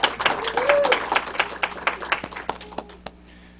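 A small club audience applauds the contestants with loud scattered clapping that thins to a few separate claps near the end. Faint voices sound under the clapping.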